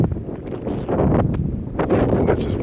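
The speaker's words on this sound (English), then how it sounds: "It's a windy day, so you may hear the wind in the background." Gusty wind buffets the microphone on a grassy campground tent area, a rough, loud rumble that swells and eases in irregular gusts with no voices.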